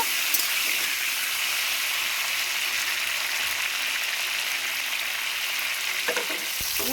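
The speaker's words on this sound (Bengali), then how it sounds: "আর এই যে ফুলকপিগুলো ভাজছি।" Cauliflower pieces deep-frying in hot oil, a dense continuous hiss and crackle heard up close, with faint stirring near the end and no voices.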